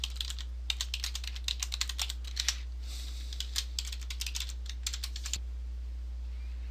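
Computer keyboard keys clatter in quick irregular bursts as a username and password are entered on a login page, close and crisp over a steady low hum, stopping abruptly before the end.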